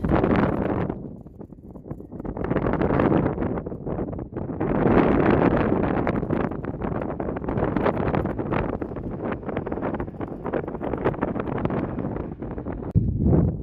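Strong desert wind in Arizona roars steadily into the microphone in loud, buffeting gusts that barely let up, with faint rustling underneath.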